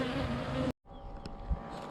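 Honeybees buzz at an outdoor bee yard, a faint, steady hum of several insects nearby, broken by a brief moment of near silence.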